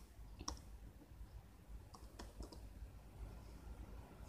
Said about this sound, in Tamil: இப்போ நம்ம டைப் பண்ணுவோம்.